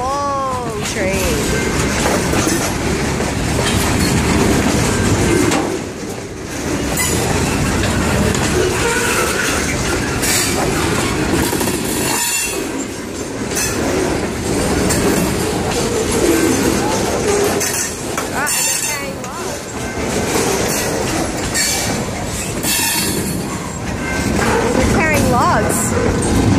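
A long freight train of boxcars and log cars passing near Zelley Park, New Jersey, with a continuous loud rumble and clatter of wheels, birds calling and people talking over it throughout.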